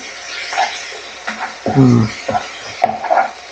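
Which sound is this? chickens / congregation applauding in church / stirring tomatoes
stirring tomatoes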